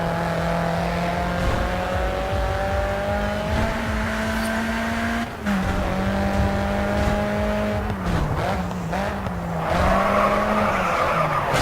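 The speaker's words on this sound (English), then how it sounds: "Oh, nice big drift there." A race car drifting in the video game Grid 2, its engine droning steadily while tires squeal through a long power slide, then revs shifting and wavering as the slide ends, loud and close with no talk.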